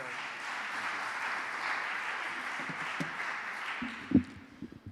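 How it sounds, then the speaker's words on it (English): An audience at a broadcast technology symposium and awards gives a steady wash of applause that fades toward the end, followed by a few faint knocks and rustles. "An applause for you."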